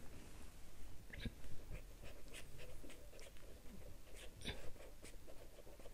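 Scratchy strokes of math being written on a board during a statistics lesson, arriving as short irregular bursts with brief pauses against a faint room background.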